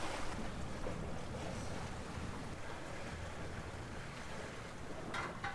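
A sailboat beats upwind in 12 knots of wind, water rushing and slapping along the hull under steady wind noise, continuous and fairly faint with no voices.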